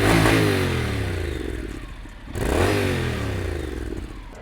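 Honda NC750X motorcycle engine revs hard through a short aftermarket exhaust with baffles still fitted, two loud rising-and-falling rev sweeps close by, with no talk.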